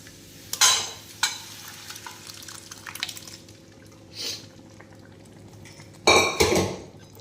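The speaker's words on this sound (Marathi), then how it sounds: "आता आपण या फोडणीमध्ये डाळ घालून घेऊया." Stirring and scraping as dal is added to a tempering in a metal pan, with a soft sizzle, several clattering bursts separated by quieter pauses, close up.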